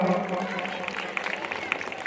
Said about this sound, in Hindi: जोरदार ताली के साथ में स्वागत करता हूं आप सबका